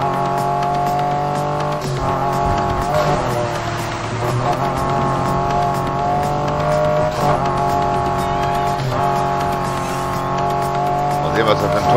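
A Ford F-150 Raptor with a quad exhaust drones in the Need for Speed Heat video game, its engine holding a steady, humming tone with periodic shifts as it accelerates.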